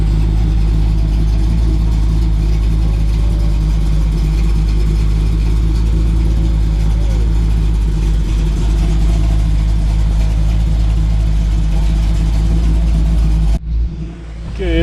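A 1968 Chevy Nova big block V8 idles steadily with its hood shut, a loud, deep, even rumble running unbroken for most of the clip before cutting off abruptly near the end.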